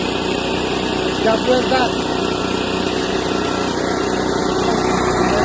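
A repaired Stihl BR 600 backpack leaf blower engine runs steadily at a loud, even high-pitched drone for the whole stretch, with someone talking briefly over it.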